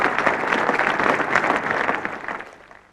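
A cricket crowd at Lord's applauding Somerset all-rounder Ian Botham, a steady wash of clapping from a modest crowd that holds for about two seconds then fades away.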